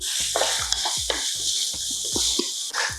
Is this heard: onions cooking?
yes